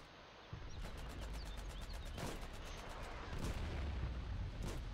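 Artillery guns fire in the war game Foxhole, a run of booming shots over steady rumbling battlefield noise, the blasts landing close together and loud with no talk over them.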